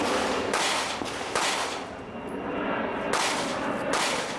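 Sharp, loud pistol shots crack in a rapid string during an outdoor IDPA shooting match, with brief pauses between bursts as the shooter moves between positions.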